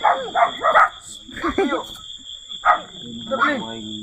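Several dogs bark and yip in short, scattered bursts close by, while a steady high-pitched tone hums in the background.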